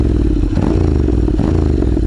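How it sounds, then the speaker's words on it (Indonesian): A Honda X-ADV 750 scooter with an aftermarket exhaust idles loud and close with a throaty, rumbling sound, giving two brief revs that rise and settle. "Ni exhaust cayam je saya pakai ni. Okey jugalah bunyi dia."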